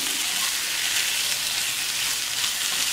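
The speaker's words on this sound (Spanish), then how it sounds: "Vamos a esperar unos minutitos a que se sofría esto" Shrimp fry in a pan with pepper and garlic, making a loud, continuous hiss of sizzling oil that stays even throughout, with no voices.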